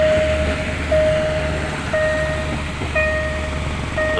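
A steady low rumble of a Thai passenger express train, Bangkok to Kantang, rolling along, with faint repeating tones and metallic hum throughout, fairly close and even.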